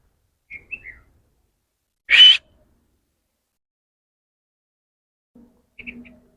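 Bird calls among trees in Dubai: a few short chirps early on, one loud burst of calls near the middle, then more brief chirps at the end, with quiet gaps between.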